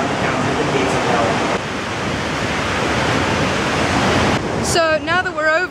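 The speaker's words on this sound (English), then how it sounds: "now that we're over and the rush of the river isn't quite so loud" A river rushes loudly through the Hell's Gate gorge in a steady, roaring wash of water. A voice starts talking over it near the end.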